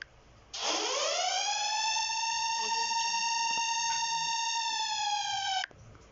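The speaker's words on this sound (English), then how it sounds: "If I hear this alarm when I go to Ukraine, Russia attacks Ukraine" A Ukrainian emergency alert alarm rises quickly from a low pitch and holds a loud, steady electronic wail with rich overtones for about five seconds before cutting off abruptly.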